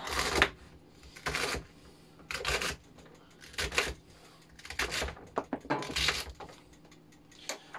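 Vegetables being cut on a board in a home kitchen, with a run of crisp, separate chopping strokes in an irregular rhythm, close and fairly loud, and no talking.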